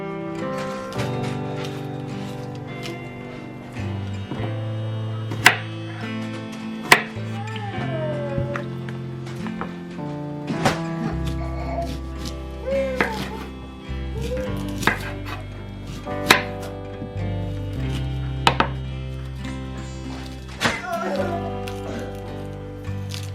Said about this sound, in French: je vais couper comme j'ai dit grossièrement les oignons